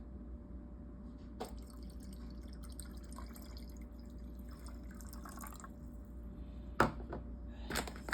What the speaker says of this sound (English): First, we add the lemon juice.